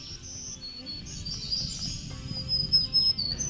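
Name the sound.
black-throated green warbler singing in forest treetops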